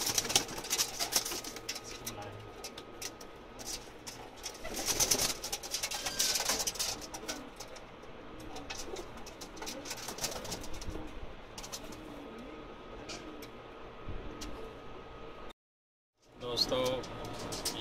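Racing pigeons at a Pakistani pigeon-flying competition coo softly and intermittently through a busy outdoor background, with a brief sudden dropout to silence near the end.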